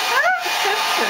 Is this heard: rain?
no